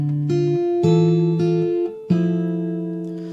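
Fingerstyle acoustic guitar plays an intro, with plucked notes and paired strings struck together in a slow, steady rhythm that rings out clearly and closely with no voice over it.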